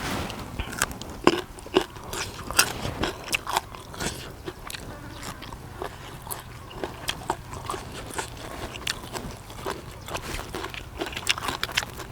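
Close, crisp crunching and biting sounds repeat irregularly as a spicy apple snail salad is chewed, with soft mouth noises between the crunches and no talking.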